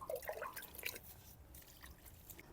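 Liquid fertilizer poured around the base of an eggplant plant, giving soft close splashes and drips that trail off into a faint trickle.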